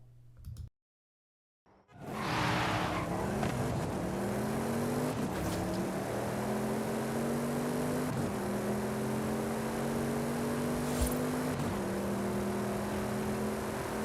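A car in the racing game Forza Horizon 5 accelerates after a brief silence, its engine revving up through several gear changes with a steady rising whine, loud and close.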